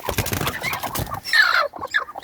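Hens cluck on a farm, several birds close by with busy, overlapping calls that grow louder and more distinct in the second half, with rustling and no talking.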